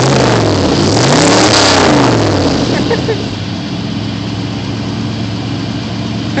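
A 1986 Chevy K10 pickup's exhaust revs loudly, its engine pitch climbing and dropping in a couple of quick sweeps before settling into a steady, rumbling idle close by.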